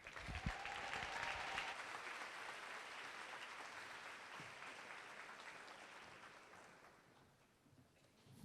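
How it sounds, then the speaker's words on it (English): A conference-room audience at an MLK Scholars leadership forum breaks into sustained applause for the mayor, with dense, steady clapping that stays strong for several seconds before gradually thinning out. "let's give a nice warm MLK Scholars cheer for our mayor, Mayor Marty Walsh."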